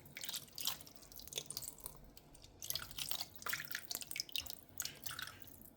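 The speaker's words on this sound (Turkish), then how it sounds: "Evet şöyle suyumuzu, salçalı suyumuzu gezdiriyorum." Tomato-paste water is poured and drizzled over bulgur-stuffed dolma in a Philips cooker, giving faint irregular splashing and dripping in uneven bursts with brief pauses between them.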